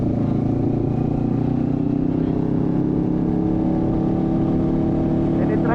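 Motorcycle fitted with a loud muffler, steady engine drone while riding with wind rush, heard continuously and close, with a voice partly under the noise.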